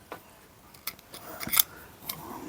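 Sharp hobby blade trimming a fraction off the inside of a plastic B-17 Flying Fortress model part, a few quiet scraping cuts and clicks close by, with a brief sharper snip near the middle.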